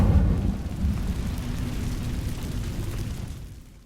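An Incendio fire spell cast in the Hogwarts Legacy game, heard as a loud, close whoosh and roar of flame that starts strongly, holds as a dense rumble and fades out after a few seconds.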